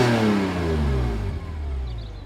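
A stock BMW E46 M3 engine revs loudly, its pitch sweeping down as it slows, with a deep throaty rumble throughout.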